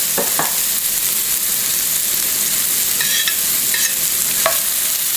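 Garlic sizzling and frying steadily in a pan for pasta, a loud continuous hiss with a few soft stirring clicks and scrapes, no talking.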